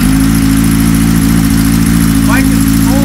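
A 1975 Kawasaki Z1 900 motorcycle engine, cold after sitting a couple of days, idles with a loud, steady, even rumble close by, and a voice speaks briefly over it.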